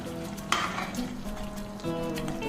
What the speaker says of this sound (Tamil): கொதி வந்ததை இது நல்லா கலந்து விட்டுக்கிட்டு